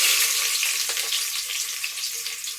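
Onions and green chillies frying in oil for biryani give a bright, hissing sizzle right up close, steady and loud, easing off only slightly over the short stretch.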